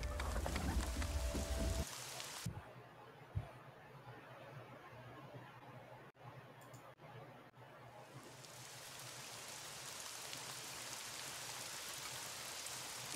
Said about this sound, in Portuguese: Acho que eu tenho música de tempestade aqui.